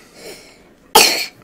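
A single sharp, loud cough from someone who is ill nearby, short and harsh, following a stretch of near silence with faint background sound.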